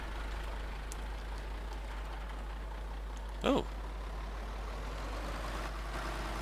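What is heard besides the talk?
tractor engine in video game Farming Simulator 2013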